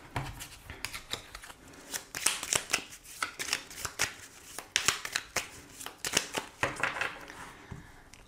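Tarot cards shuffled and cut by hand for a reading, a close run of crisp riffling and flicking bursts in uneven rhythm, fairly quiet with no talk.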